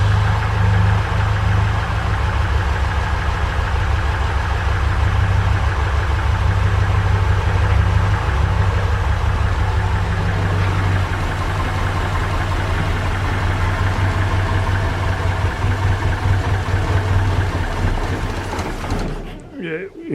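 A Ford Capri Calypso engine, started after fourteen years in storage, idles steadily with a deep low rumble and slight knocking, loud and continuous before cutting out near the end.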